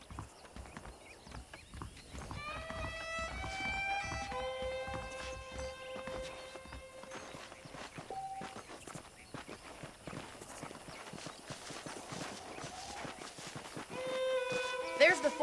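Horse hooves clip-clop steadily at a walking pace as a rider moves through a Red Dead Redemption western ranch setting, with character dialogue, faint music and ambient tones layered over the rhythmic footfalls.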